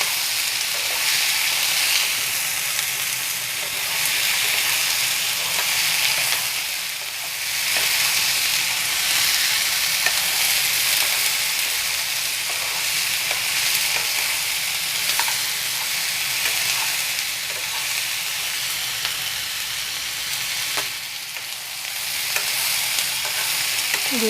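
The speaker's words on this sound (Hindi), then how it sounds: "इसे थोड़ी देर फ्राई करके और फिर बाहर निकाल लेंगे।" Mixed vegetables sizzle steadily in a hot pan with a constant loud hiss, broken by occasional stirring scrapes and no voices.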